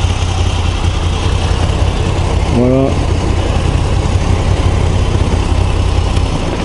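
A Moto Guzzi V85 TT motorcycle engine idling steadily nearby, a low even rumble running throughout while a person speaks briefly over it.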